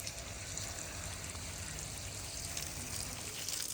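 Water from a hose running steadily onto a vegetable bed of carrot plants with flowers in a home garden, a continuous soft trickling and gushing wash with no talk over it.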